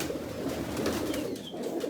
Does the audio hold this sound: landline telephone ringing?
no